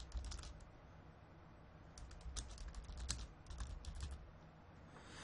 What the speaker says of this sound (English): I can also go back, or I can start typing.